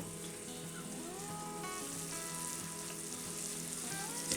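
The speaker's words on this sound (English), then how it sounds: "add your finely chopped onions and slowly fry until they're soft, but not brown" Finely chopped onions fry gently in a pan over low heat, a soft continuous sizzle and crackle with no voices.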